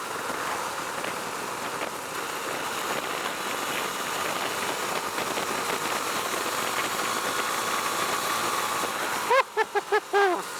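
A Husqvarna Svartpilen 401 motorcycle engine drones steadily while riding, a constant close mechanical roar mixed with rushing wind, ending in a few short pulsing tonal bursts.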